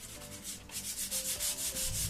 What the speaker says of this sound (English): I'm basically somewhat sanding the polyol, but I don't care.